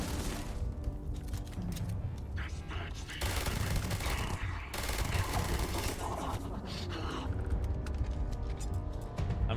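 Dense, rapid gunfire in the video game Starfield, with continuous automatic bursts and booming impacts layered loudly, and a voice speaking briefly underneath.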